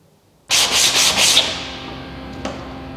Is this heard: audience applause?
no